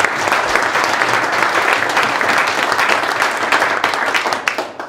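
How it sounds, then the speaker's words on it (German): Steady, dense applause from an audience at a business forum event in Krefeld, continuous and full for the whole stretch with no talk over it. "Können wir ruhig mal klatschen hier."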